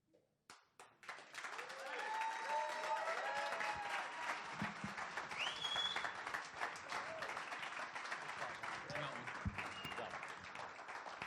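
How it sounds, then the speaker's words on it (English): Audience applause at a 2020 talks event, a few early claps swelling into sustained loud clapping that fills the room, with faint voices and cheers mixed in throughout. "Let's give Mark another round of applause."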